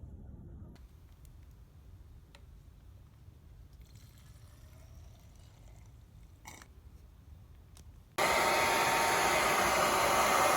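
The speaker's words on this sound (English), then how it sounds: "So a couple minutes with a hairdryer, crack the plug." After a stretch of quiet handling noises, a hair dryer switches on with a loud, steady blowing roar close by, warming a nitro RC car engine, a 2006 Hobao Hyper 7 PCR.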